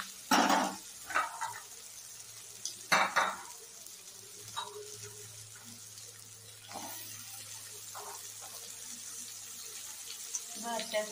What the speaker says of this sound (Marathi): आता त्याच्यामध्ये बटाटा टाकून घेऊया।